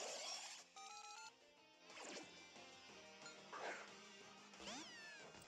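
Meowth's cry from the Pokémon Ultra Moon video game, a short synthesized cat-like meow among chiming game music and sound effects.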